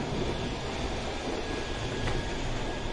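Steady low rumble and rattle from inside a moving train on the way to Ooty, continuous and fairly loud with a faint metallic whine, no voices.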